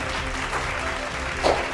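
Steady applause at a virtual national achievement day celebration honoring winners, a continuous crowd clapping at an even level with a small swell near the end.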